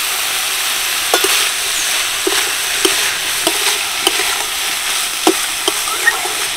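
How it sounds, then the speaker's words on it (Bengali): Vegetables and chopped green chilli tossed in a pan for a sabu dish, a loud even sizzle with regular light knocks and scrapes of a spatula stirring every second or so, no talking. "হালকা নেড়ে চেড়ে নিচ্ছি, আর এর সাথে দিয়ে দিচ্ছি কিছুটা কাঁচা লঙ্কা কুচি।"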